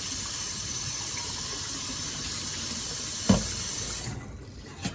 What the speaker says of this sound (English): we're going to rinse out our containers, just get all that milk, the buttermilk out